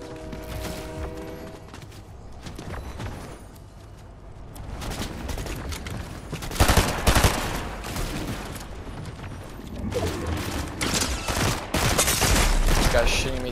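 Rapid bursts of gunfire from a PS5 shooter played in a duo cash cup match, with heavy volleys around the middle and end, mixed with game sounds and intermittent player talk.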